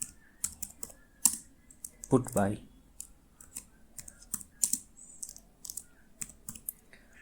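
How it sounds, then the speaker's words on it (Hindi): Quick, uneven typing on a computer keyboard, with crisp, close key clicks in short bursts and brief pauses, while someone speaks over the keystrokes. "तो यहाँ पे हम टाइप करेंगे NFT"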